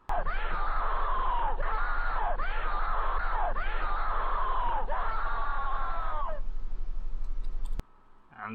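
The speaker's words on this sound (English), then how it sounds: "He picks up the pace as screams in the background get louder and more violent to the point where he just dies." Screams sound from the background of a played video, a series of sustained, loud, wailing cries repeating back to back before cutting off abruptly.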